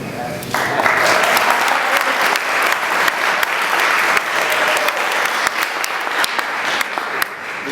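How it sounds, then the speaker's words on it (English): Applause at a high school football banquet, a steady, close wash of many clapping hands with voices talking underneath. "We can clap if we want."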